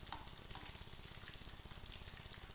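Brinjal pieces fry lightly in oil in a pan for a jackfruit seed gravy, giving a soft, steady, even sizzle, close by but quiet throughout.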